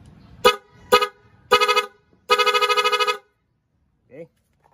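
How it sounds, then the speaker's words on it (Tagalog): A motorcycle dual horn gives several loud blasts at close range: two short honks, a longer one, then a sustained pulsing blare, followed by a brief faint chirp. "Dito siya naka-install sa ating motor. Yan, so i-horn natin"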